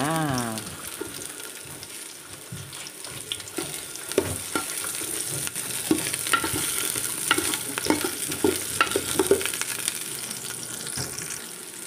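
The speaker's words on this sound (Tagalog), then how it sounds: "Una kong igigisa ay garlic. Yan. Isabay na rin natin ang onion." Garlic and onion sauté in a hot pan, with a steady sizzle broken by repeated scraping and stirring clatters from a utensil, close and fairly loud, with no talking.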